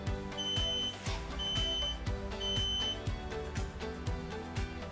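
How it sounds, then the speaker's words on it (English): ALPENLUFT networked smoke detectors sound a test alarm together, a series of loud, piercing, evenly spaced beeps that repeat steadily over a busy, layered background with no talking. "All network detectors sound."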